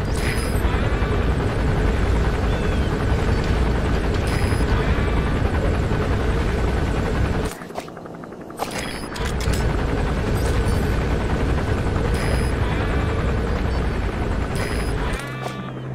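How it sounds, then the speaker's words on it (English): A military helicopter lands in the stealth action game Metal Gear Solid V: The Phantom Pain, its rotor roaring loud and steady, cutting out briefly midway, then returning close with sharp intermittent game effects. "There's a chopper landing."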